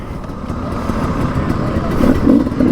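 A 300cc two-stroke enduro motorcycle engine runs loud and close, a rough, buzzy idle that builds slightly toward the end.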